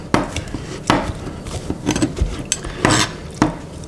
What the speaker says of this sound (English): I'll chop it up, coarsely chopped